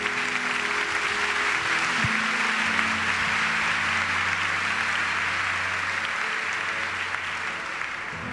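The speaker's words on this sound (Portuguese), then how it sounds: "Pode aplaudir para valer." Audience applause fills a church gathering, dense and sustained clapping at close range that holds steady throughout before easing slightly toward the end.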